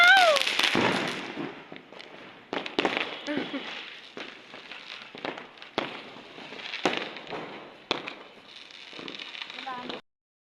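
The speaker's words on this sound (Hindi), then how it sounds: "देखिए पटाखों की आवाज़ें, माशाल्लाह बहुत अच्छा लग रहा है।" Fireworks and firecrackers burst at night in a string of sharp cracks and crackling pops at varying distances, loud and irregular, while people talk over them.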